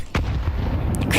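A grenade goes off in the tactical shooter Counter-Strike, with one abrupt, loud blast followed by a heavy, sustained low rumble that fades only slightly before the end.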